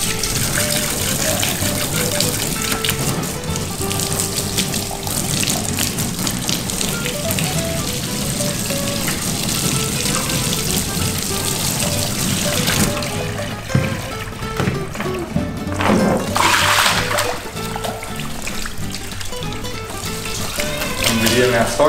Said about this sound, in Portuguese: Tô jogando água.